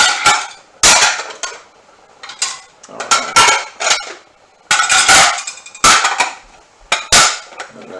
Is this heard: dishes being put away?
yes